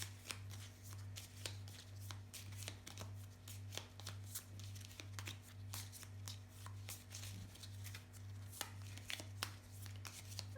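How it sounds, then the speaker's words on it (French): Oracle cards being shuffled by hand, a long run of soft riffling and flicking taps, close and quiet over a low steady hum. "Alors je vais donc mélanger les cartes."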